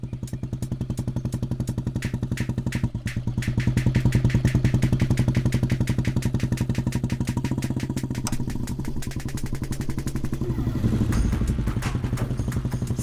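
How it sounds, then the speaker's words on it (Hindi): A Royal Enfield Bullet motorcycle thumps steadily as it pulls away, its loud single-cylinder exhaust beat pulsing evenly, briefly swelling with throttle and then settling, with a clatter near the end. "आप बुलेट बहुत अच्छी चलाती हैं।"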